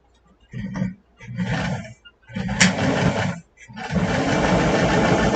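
A sewing machine stitches a folded fabric collar in several close bursts of rapid, buzzing mechanical chatter, separated by brief pauses and ending in a longer continuous run.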